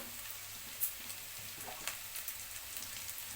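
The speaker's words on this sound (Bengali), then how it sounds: "আলু গাজর ফুলকপি আমার একটু ভাজা ভাজা হয়ে গেছে আমি এবার ক্যাপসিকামটা দিয়ে দিলাম" Potato, carrot, cauliflower and capsicum fry in a pan for flattened-rice pulao, giving a quiet, continuous crackling sizzle with a few sharper pops.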